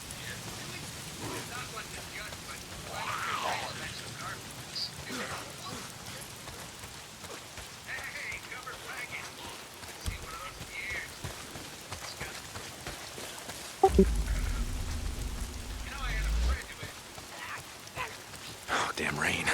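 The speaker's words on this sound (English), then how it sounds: "If it's not the freaks, it's the goddamn rain. Why is it always raining?" Steady rain falls in the open-world zombie game Days Gone, a broad hiss of drops on surfaces running throughout, joined by a louder low rumble partway through, with someone talking over it.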